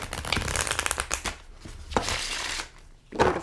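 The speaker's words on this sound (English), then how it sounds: "really easy to rifle shuffle" A tarot card deck is rifle shuffled by hand, making two or three loud, fluttering bursts of card riffling close up, split by brief pauses and a soft tap.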